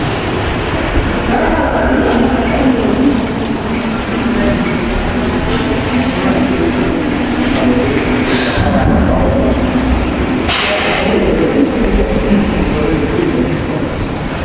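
A London Underground train rumbles loudly and continuously through a tunnel close to a pedestrian passage, with a deep sustained roar and swelling surges of rattling noise.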